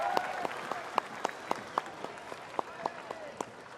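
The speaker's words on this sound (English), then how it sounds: "This is your applause again." Scattered applause at a cycling race award ceremony, a dozen or so sharp claps in an uneven rhythm, fairly close and moderately loud over a faint background murmur of talk.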